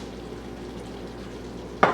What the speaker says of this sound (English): we are going to just stir that in and leave it set for 5 minutes to finish simmering.